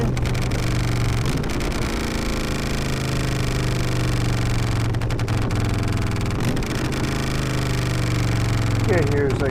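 A motorcycle exhaust idles with a steady, loud, continuous rumble throughout, heard close up while riding in traffic, with voices talking over it.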